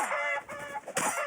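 A chicken in the ARK survival game clucks in a short burst of a few quick, fairly close calls, heard alone with no talk over it.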